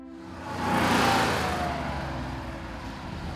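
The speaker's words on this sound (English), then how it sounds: "Driving this original 911 today" A 1965 Porsche 911 engine revs while driving, swelling louder around the first second and holding a steady, close mid-pitched drone with no talk.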